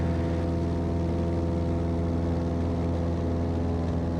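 A small aircraft engine roars at full power on the takeoff roll departing Elk River airport, a loud, steady, droning hum that never varies.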